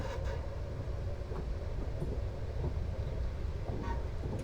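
A Class 444 electric train on the Portsmouth Direct Line rumbles steadily, a low continuous roar with wind noise on the microphone and faint clanks throughout.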